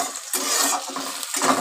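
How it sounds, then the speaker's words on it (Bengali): Onion frying in a pan for chow mein, with soft sizzling and stirring scrapes in short bursts, fairly close and moderately loud, no voices. "দেখো পেঁয়াজটা আমি খানিক ভেজে নিলাম।"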